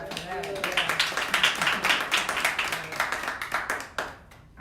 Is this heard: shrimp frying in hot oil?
no